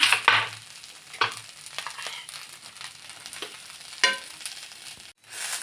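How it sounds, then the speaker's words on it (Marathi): Pav fries in butter on a flat pan: a soft sizzle runs beneath intermittent scraping and clattering bursts from a spatula, loudest near the start and again around the fourth second, with no speech. "थोडस बटर टाकून घेऊ आपण"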